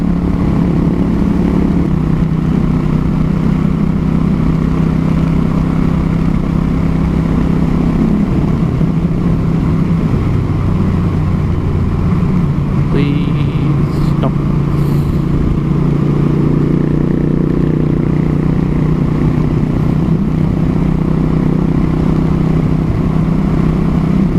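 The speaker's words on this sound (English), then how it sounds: "Lots of guys out on bikes today." Motorcycles ride along a road on a hot, sunny day, giving a steady engine drone and rumble that runs throughout with a brief rattle midway.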